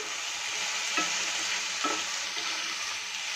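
Moong dal tipped into a hot pan sizzles with a steady bright hiss, broken by two soft stirring scrapes partway through.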